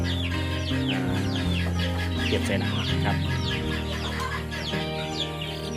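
Chicks peep constantly and hens cluck at a farm where chicks are being raised apart from the mother hen, a busy, close chorus while someone speaks briefly.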